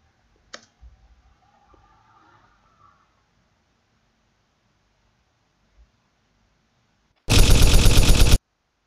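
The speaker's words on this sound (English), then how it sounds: "So this is how you can create a gunfire effect in VSDC free video editor." A rapid burst of synthetic gunfire made in VSDC free video editor rattles loudly for about a second near the end, after long near-silence broken only by a faint click.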